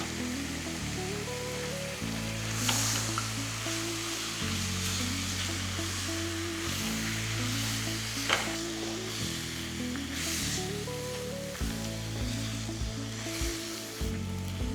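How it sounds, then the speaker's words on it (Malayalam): Chicken coated in ground masala sautés on a high flame, giving a steady close sizzle with occasional stirring scrapes and a low constant hum beneath, no voices. "അരപ്പ് ചിക്കനിൽ പിടിക്കുന്ന വരെ ഹൈ ഫ്ലെയിമിൽ കുറച്ച് നേരം ഒന്ന് സോട്ട് ചെയ്യുക."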